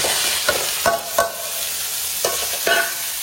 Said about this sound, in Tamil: இப்போ வெங்காயம் தக்காளி சீரகம் தான் ஒட்டுக்கா போட்டுருவேன்.